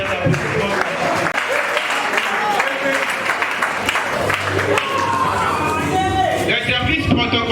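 Applause in a hall during a student mock trial, loud crowd clapping mixed with babble and cheering, continuous throughout with voices talking over it.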